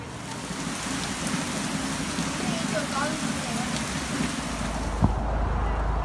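Steady, dense rain hisses evenly through the whole stretch, with a low rumble underneath and one faint brief knock near the end.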